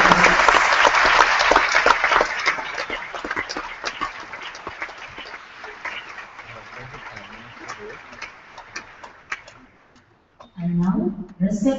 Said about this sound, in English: Please join me once again by giving a round of applause